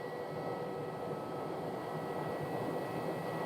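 An airliner taxiing at Phoenix airport, a steady, loud broadband roar of jet engines with a faint whine on top, unbroken and without talk.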